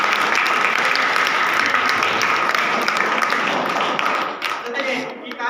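Loud, dense applause from a school event audience fills the space continuously, steady clapping that thins out near the end as it dies down.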